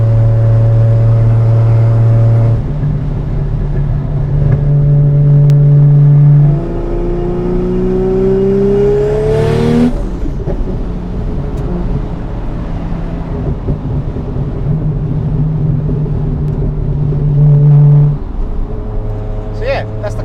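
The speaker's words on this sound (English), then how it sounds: "So yeah, that's the cutout valve." An 800-horsepower Toyota Supra idling and revving with its exhaust cutout valve open, a loud, close, deep drone that swells in a sharp rev before settling back to a rumbling idle.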